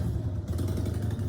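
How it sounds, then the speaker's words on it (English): A motorbike rolls past nearby with a steady low engine drone and rumble, continuous and fairly loud for the whole moment. "That's actually my father on the motorbike."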